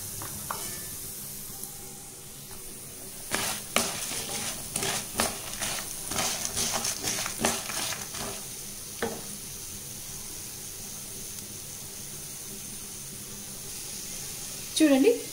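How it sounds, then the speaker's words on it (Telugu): Curry leaves fry in a pan with dried red chillies for a curry leaf powder, giving a steady soft sizzle with bursts of stirring and crackle in the middle stretch and a clink of utensils near the end. "ఇది కొంచెం రెడీష్ వచ్చే వరకు వేపుకుందాం."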